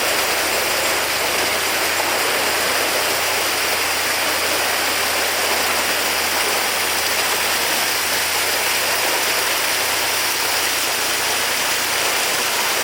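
Water rushing out through a wound ground paddle from one canal lock into the next on the Leicester Branch near the Watford staircase locks, a loud, steady broadband roar with a faint low rumble underneath.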